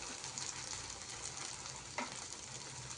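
Omelette batter sizzling in hot oil in a pan, a steady close crackling hiss with a brief louder pop partway through, no voices.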